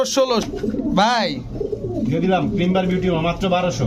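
Lahori pigeons at a pigeon farm give soft repeated coos and throaty calls in uneven bursts, close by, with people talking over them.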